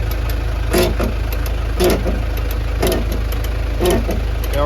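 A heavy tractor engine idles with a deep, steady low rumble, periodic louder pulses roughly every second, close by.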